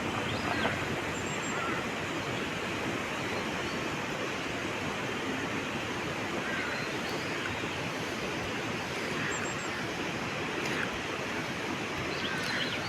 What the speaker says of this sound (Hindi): ये देखो एक और झरना आ गया